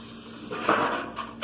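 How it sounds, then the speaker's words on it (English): Water runs from a kitchen tap while hands are washed during meatloaf preparation, a soft steady hiss that swells briefly in the middle and again at the end. "Now I'm going to wash my hands again."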